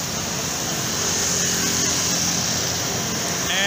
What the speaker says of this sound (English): But here is a different kind of noise, as you can hear. A lot of motorbikes.